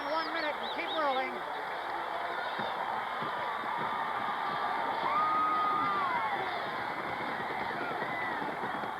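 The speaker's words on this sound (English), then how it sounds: "there you see a sellout crowd" A sellout football stadium crowd in Norman, Oklahoma, at a Nebraska versus Oklahoma game fills the air with a continuous distant roar of cheering and whoops, with a voice talking over it.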